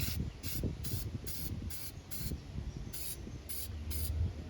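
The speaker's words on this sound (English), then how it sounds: "you'll do both terminals with it" Short, sharp aerosol spray bursts hiss onto car battery terminals in a steady rhythm, about ten quick pulses close to the microphone with low handling noise underneath.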